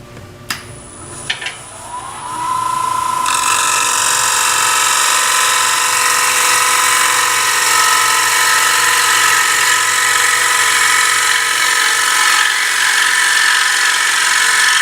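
A bowl gouge cuts a spinning wooden bowl on a lathe. After a few light taps, a loud continuous rushing, shearing noise sets in over the motor's hum and holds steady to the end.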